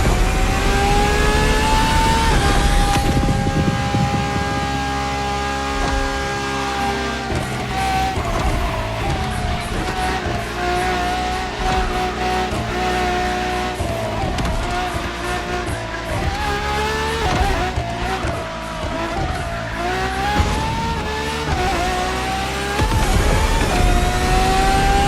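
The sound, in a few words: Ferrari LaFerrari hybrid supercar driving in video game The Crew Motorfest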